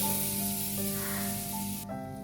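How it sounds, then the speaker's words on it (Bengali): A tempering of bay leaf, dried red chilli and whole cumin fries in hot oil with a bright, continuous sizzle that suddenly drops away near the end, over a low steady background hum. "তেজপাতা শুকনো লঙ্কা গোটা জিরে ফোড়নটা কিছুক্ষণ নাড়াচাড়া করে দিয়ে দিচ্ছি হলুদ"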